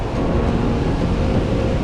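Sea waves roll in at Daecheon beach, a broad, continuous roar of surf with wind buffeting the microphone, loud and steady with no voices.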